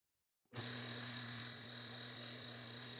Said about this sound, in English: To sharpen the blade, I used a fine grit belt to rough in the secondary bevel.